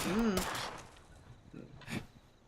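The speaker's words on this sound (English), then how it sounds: "Oh, shoot at me again?" Gunfire in the video game Fallout 76: a sharp shot burst up close, then fainter scattered shots further off, over quiet game ambience.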